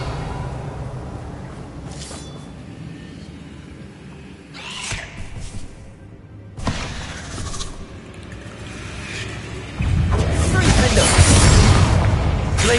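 Blasts from the Confringo explosive spell in the Hogwarts Legacy video game, heavy booming bursts over busy game music and effects, with a player's voice talking over the action.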